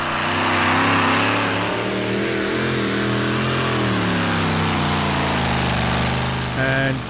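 A pulling tractor, 2.6-ton class at a European Championship tractor pull in Bryne, roars loud and steady as its engine accelerates down the track, the pitch climbing near the end, with an announcer's voice faint underneath.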